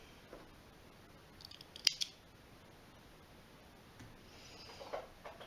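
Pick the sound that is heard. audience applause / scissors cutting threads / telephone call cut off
scissors cutting threads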